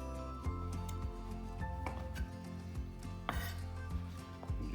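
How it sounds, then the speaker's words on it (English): Sharp knife sawing the crusts off three slices of bread on a board, a string of soft, close scraping cuts and light taps repeating every second or so over steady background music. "All we're going to do is cut off the crust."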